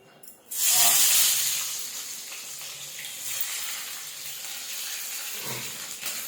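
Chicken leto dropped into hot oil, an abrupt loud hiss and sizzle that bursts up, then settles into a steady bubbling fry close by.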